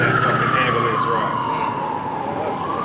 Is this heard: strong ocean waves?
no